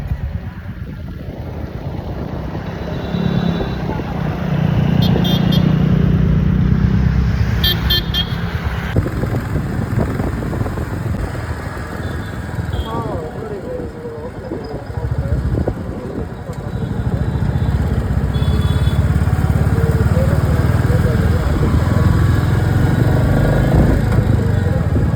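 A Royal Enfield motorcycle rides through Shivajinagar traffic, its engine a steady low rumble under heavy wind buffeting, with a brief horn toot and passing traffic nearby.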